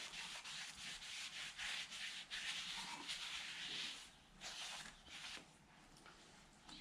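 A rag rubs briskly over new brake parts for a 2008 Hyundai Santa Fe to wipe off protective oil, a close, rhythmic series of scratchy swishing strokes with brief pauses between, no talking.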